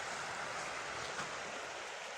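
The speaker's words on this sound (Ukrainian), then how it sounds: "Гарний такий гірський струмочок." Steady rushing mountain stream, the Probiinivka river in the Carpathians, fills the clip, a continuous broadband babble like a fast-flowing brook heard up close, with no voices.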